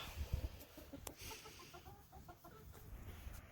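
Chickens cluck softly in short, scattered bursts nearby, with light rustling and farmyard ambience.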